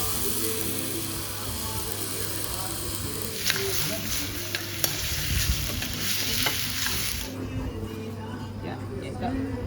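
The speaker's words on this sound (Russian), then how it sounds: "А вот здесь, прямо при нас, жарится мясо" Beef sizzles and fries on a cooking surface at a Maldives ocean resort, a continuous crackling hiss with occasional stirring clacks, heard at moderate distance with a faint background hum.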